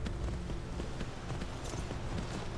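Horse hooves clip-clop steadily in a rhythmic gait while riding through Skyrim, the repeated footfalls continuous and fairly close throughout the short stretch.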